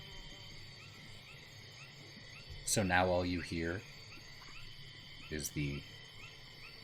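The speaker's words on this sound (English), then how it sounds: "creaks and clicks and croaks of the strange swamp life all around you" Ambience of strange swamp life in a fantasy tabletop game setting: a faint, steady bed of insect-like chirring and clicking runs throughout, while a voice speaks briefly over it.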